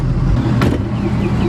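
A skid steer stuck on ground, trying to get traction, strains its engine in a loud, close, continuous rumble with a brief surge of revving midway.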